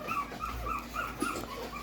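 A young puppy whimpers and yips in soft, repeated high cries over a low background rumble, with no talking.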